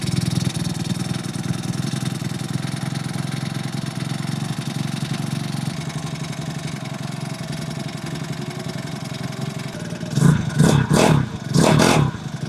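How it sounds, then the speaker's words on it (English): The engine of a cheap Amazon-bought motorcycle idles steadily nearby with an even, throbbing putter, then gives a few sharp throttle blips near the end as the idle screw is adjusted. "Let's let it warm up for a little bit"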